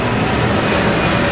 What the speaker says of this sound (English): an aeroplane going over